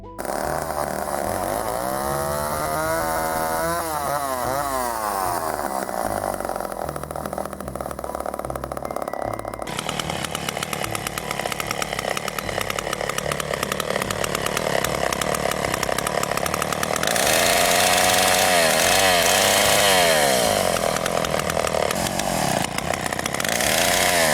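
A chainsaw in the video game Texas Chain Saw Massacre runs continuously and loudly, its engine pitch rising and falling as it revs, with gritty mechanical buzzing throughout.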